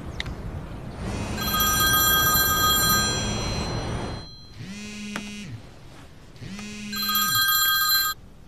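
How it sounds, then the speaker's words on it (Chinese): A telephone rings in a bursting electronic pattern, two loud ring sequences separated by a short pause, with a low buzzing tone between them, close and clear with no talking. "终于来电话了"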